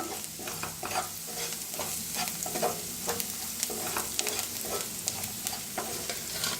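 Turmeric roasting in oil in a pan for a village-style Maharashtrian brinjal dish, a steady close sizzle with repeated scraping stirs of a spoon against the pan, no voices.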